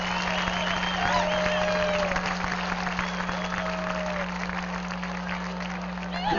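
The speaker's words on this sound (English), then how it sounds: "please give a warm round of applause for Coach Steve Schweitzer" Audience at a high school football game applauds a coach's hall of fame induction, a steady, distant wash of clapping and crowd noise under a constant electrical hum, lasting several seconds.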